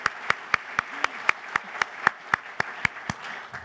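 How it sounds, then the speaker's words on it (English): Scattered, evenly spaced hand claps from an audience at a Homeland Security discussion event at George Washington, sounding like a modest, thin round of applause in a hall with a faint murmur beneath. "why don't we just all start by giving him a round of applause"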